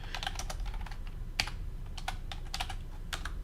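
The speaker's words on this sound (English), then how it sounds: "I'm just going to type it" Fingers tap out a command on a computer keyboard during a server software installation, quick irregular clicks close by and quiet, with no talk.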